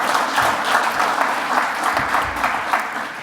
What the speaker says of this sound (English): can I get you to keep the applause going for our panellists